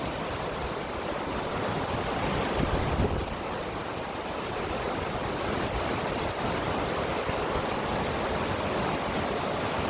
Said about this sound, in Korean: 엄청나게 바람이 불고 있습니다.